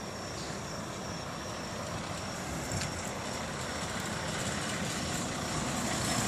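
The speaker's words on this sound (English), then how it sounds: "here's the bus coming" A school bus comes down a hill toward the listener. A faint, broad engine rumble grows steadily louder through the clip, and a high, thin whine sits above it.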